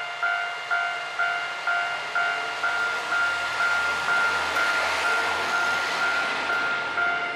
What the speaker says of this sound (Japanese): 普通列車がやってまいります。